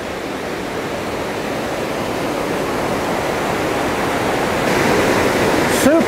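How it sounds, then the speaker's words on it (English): Waterfall pouring straight out of the springs at Niagara Springs State Park along the Snake River in Idaho, a loud, steady, broadband roar close by that swells slightly toward the end. "Super nice waterfall."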